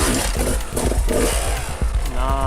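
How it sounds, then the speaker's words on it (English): An enduro motorcycle's engine revs in short, choppy bursts at close range as the rider feathers minimal throttle and drops the clutch to climb over an obstacle, loud and rasping throughout. "Minimal throttle, very nice controlled drop of the clutch."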